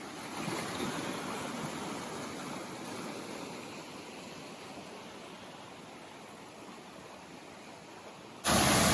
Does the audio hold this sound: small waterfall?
yes